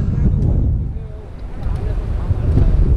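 Wind blowing at the summit of Angels Rest, a loud continuous rushing roar buffeting the microphone, with a voice speaking faintly beneath it.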